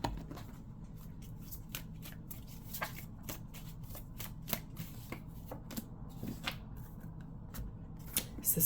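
Tarot cards being shuffled by hand, a quick run of crisp riffling flutters and soft slaps, close and fairly quiet, with no talking.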